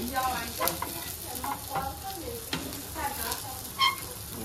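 Nangu fish fries in a pan with a soft, continuous sizzle and occasional stirring scrapes, fairly quiet, with faint voices now and then.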